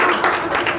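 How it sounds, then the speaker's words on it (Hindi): Audience applause at a women's business gathering in India: a brief burst of steady clapping from a group, heard on its own for under a second. "जोरदार तालियां।"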